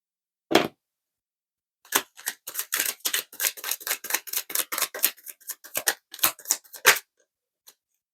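Tarot cards from a Light Year Tarot deck being drawn and shuffled, a single crisp snap followed by a rapid run of close, dry flicks and riffles, then a last faint tap, with no talking.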